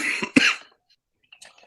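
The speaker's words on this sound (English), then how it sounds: "Sorry, I have a cough right now." One sharp, loud cough erupts at close range, followed by silence and a fainter throat-clearing rasp, heard alone without talk.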